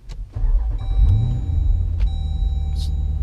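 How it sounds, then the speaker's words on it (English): A car engine cranks and catches after a replaced push start/stop button, a brief starter whir rising into a steady, close idle rumble that settles and holds. "Start your vehicle."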